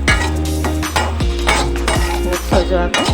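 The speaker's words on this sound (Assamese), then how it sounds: "অকণমান লৰাই দিম" Roasted rice flour and grated coconut stirred in a pan for laddu, a spoon scraping the pan in steady repeated strokes, close and fairly loud, with a soft dry sizzle underneath.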